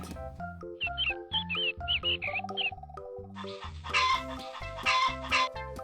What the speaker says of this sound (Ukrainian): Вилізли курчатка. Вилізли та й пищать.